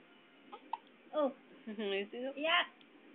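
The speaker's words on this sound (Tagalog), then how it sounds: "Ayan, sininok na." A small child hiccups several times in a quiet indoor setting, short vocal catches mixed with whimpering, fussy sounds.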